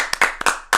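Several sharp hand claps ring out close and loud in quick uneven bursts at the start of a podcast recording, with brief silences between them.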